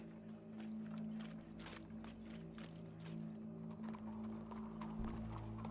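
Hooves clop steadily on hard ground at a walking pace, with a constant low hum and faint ambient noise beneath, in the video game Red Dead Redemption 2.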